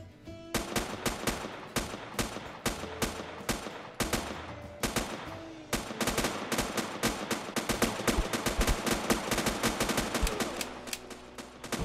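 Rapid bursts of automatic gunfire from the survival shooter Next Day: Survival crack out loud and close, in long sustained strings with brief pauses between volleys and no speech over them.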